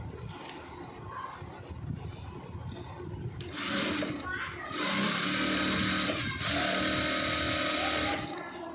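A sewing machine stitching a short koti jacket along a marked line, quiet at first, then a loud close whirring run in two bursts, with speech in the background.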